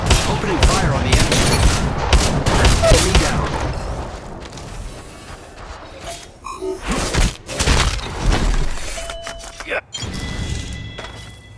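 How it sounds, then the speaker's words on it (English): Gunfire and explosive booms from the Apex Legends Mobile video game, dense bursts of shots crowding the first few seconds, then scattered blasts and game effects with a voice speaking over the action. "Opening fire on the enemy."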